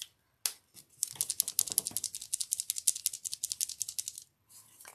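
A paint marker is shaken hard with its cap on, giving a fast, close rattle of the mixing ball, a dense run of sharp clicks for about three seconds before a brief pause.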